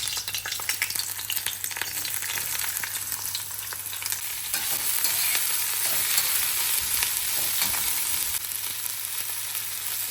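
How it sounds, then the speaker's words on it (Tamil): Onion, capsicum, ginger and garlic sauté in a pan for a paneer gravy, giving a steady close sizzle broken by scraping stirs, with no talking. "இது 3 ஐட்டத்தை மட்டும் போட்டு வதக்கணுமா போதுங்க."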